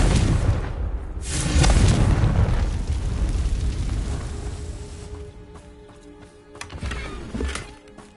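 Fiery spell blast in the video game Hogwarts Legacy, a loud rumbling explosion swelling then decaying, followed by a second sharper burst, set against tonal game music and effects.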